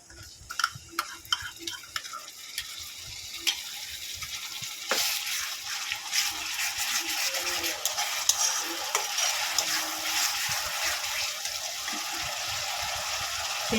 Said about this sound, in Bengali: হালকা লাল করে ভেজে নেবো পেঁয়াজটাকে পেঁয়াজের পেস্ট দিয়ে দেবো